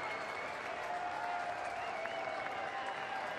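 A crowd at a college baseball game between Texas and Stanford applauds and cheers steadily in a dense, distant roar with scattered whistles, holding at an even level throughout.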